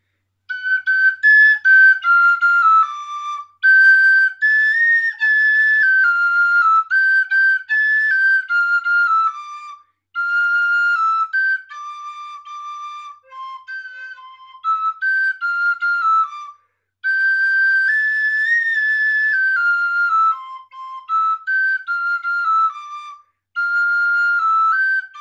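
A bright, high folk flute (fluier) in D plays a lively folk melody alone, in several phrases separated by short pauses.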